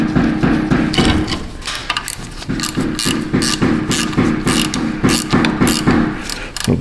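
A ratchet snugs a bolt during rear wheel bearing work on a 2012 Toyota Tundra: a close run of rapid metallic clicks in quick repeated bursts, loud and steady, with no voices.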